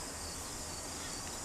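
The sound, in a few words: crickets chirping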